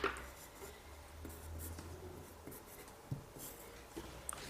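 A pencil scratches and rubs across paper while a manga figure is sketched, a faint, close, continuous scraping with a few light taps, heard alone.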